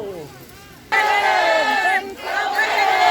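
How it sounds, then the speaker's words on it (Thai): A large Thai crowd chants "Long live the King" loudly in unison at a district office, a sustained roaring cry that breaks briefly and then resumes, echoing across an open space. "เสียงกึกกองทรงพระเจริญนะครับ ดังกึกกอง"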